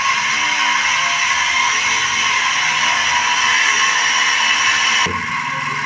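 A small engine running on a homemade mini 1.5-volt CDI built from a used stove lighter revs loud and close, whining at high RPM without talk, then drops off abruptly near the end.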